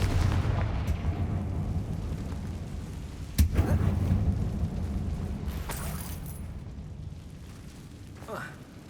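Confringo blasting spell in the video game Hogwarts Legacy, a single sharp explosive crack followed by a rumbling boom that fades over a steady low game ambience, with a few faint later pops.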